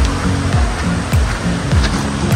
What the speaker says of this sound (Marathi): मित्रांनो, निखळ असं पाणी तुम्ही बघू शकता आपल्या नदीचं.